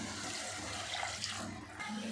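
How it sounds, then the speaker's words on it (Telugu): Water is poured into a cooking pot for tomato rice, about three and a half glasses, making a soft, brief splashing rush heard close by at low volume. "3 గ్లాసులున్నర వాటర్ వేసుకుంటున్నాను."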